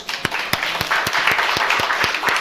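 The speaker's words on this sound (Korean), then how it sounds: "하나님께 영광의 박수를 드리겠습니다" A church congregation at a Christmas service gives a round of applause, a dense clapping wash punctuated by sharp, rhythmic hand claps landing at a regular beat.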